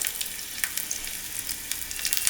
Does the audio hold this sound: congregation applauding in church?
no